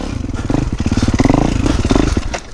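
Two-stroke motocross bike ridden hard on a trail, its engine revving aggressively in a rapid, loud, crackling pulse that rises and falls over a couple of seconds, close to the microphone with no talk.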